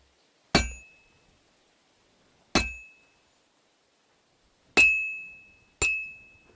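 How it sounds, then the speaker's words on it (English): A smithing hammer strikes hot metal on an anvil in Kingdom Come Deliverance 2: four sharp, ringing clangs, widely spaced and then closer together, each with a bright metallic ring that fades in near silence. "I have to hammer it more evenly."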